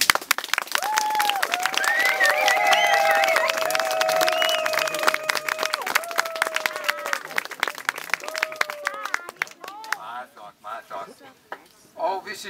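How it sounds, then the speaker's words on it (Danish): Audience applause and cheering for the artist Sibille at the Tisvilde Billedfestival, a dense, sustained burst of clapping with shouts and whistles from the crowd, then tapering off. "Og hvis I synes Sibille skal vinde, så skal I give hende et stort bifald."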